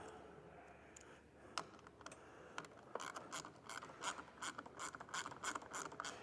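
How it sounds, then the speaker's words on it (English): Ratchet tightening a nut on a bolt while fitting an Air Lift WirelessONE suspension system, quiet at first with scattered clicks, then a run of crisp, evenly spaced ratcheting clicks growing louder near the end. "Put the nut back on and tighten it down."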